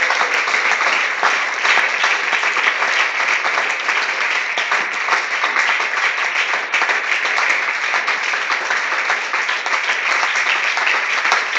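A large church congregation applauds continuously during worship, a dense, even roar of clapping that stays loud throughout without pause.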